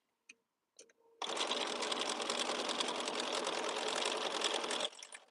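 A sewing machine stitching fabric runs steadily for about four seconds, a close, even, fast mechanical whir, preceded by a few brief clicks and set-up noises.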